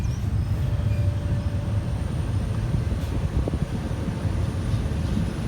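Passenger train 254 on the Lang Suan–Thonburi run pulls out of a station in Thailand, a loud, steady rolling rumble of wheels and cars close by, with a faint thin squeal drifting over it.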